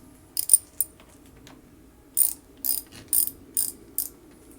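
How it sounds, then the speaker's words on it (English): A ratchet fitted with a 10mm socket clicks in short bursts as it loosens car battery terminals, a few quick clicking runs close up with brief pauses between them. "you're going to need a ratchet and a 10mm socket or a 10mm wrench, so we can loosen this right here on both the positive and negative"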